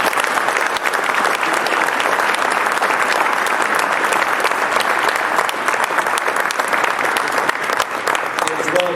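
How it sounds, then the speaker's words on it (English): A crowd at a high school football banquet applauds continuously, a dense, even wash of many hands clapping that holds steady for the whole stretch. "good round of applause"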